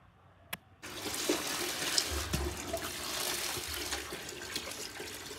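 Fresh water running steadily from a tap, filling for mopping, a continuous splashing flow that starts after a brief pause and holds at moderate loudness.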